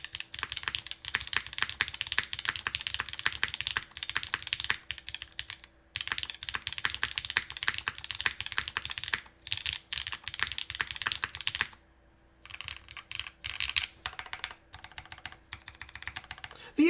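Continuous close typing on a Keycult No. 2 60% keyboard with MX2A switches on 63.5 gram springs: rapid clacky keystrokes with a couple of short pauses, quiet and alone.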